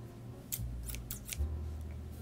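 Several short crisp snips from a pair of dull scissors cutting, spaced irregularly over a low steady hum.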